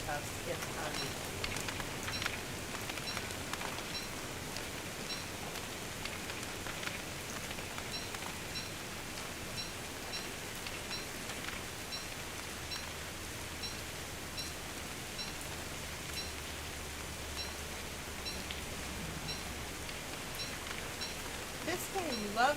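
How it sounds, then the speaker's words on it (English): Steady rain falls in the video game Don't Starve: Hamlet, a continuous soft hiss that holds even throughout with no distinct drops or thunder. "This game loves to rain on me a lot."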